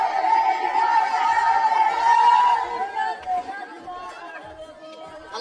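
Spectators at a Saudi camel festival cheer and chatter in a dense crowd babble that swells loudly at first and then gradually thins and fades.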